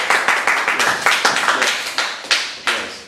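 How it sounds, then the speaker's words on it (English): A small class gives a brief round of applause for a student's question. The separate, distinct handclaps come in a loose, quick rhythm close by, and a few stronger claps stand out near the end. "Can we have a little applause for Eileen's question?"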